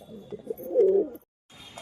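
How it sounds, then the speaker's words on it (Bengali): A female green pilong pigeon coos in a low, rolling phrase up close, building to a louder drawn-out coo before breaking off into brief silence, then faint background sound resumes. "এই হচ্ছে মাদি কবুতর সবুজ পিলং কবুতর"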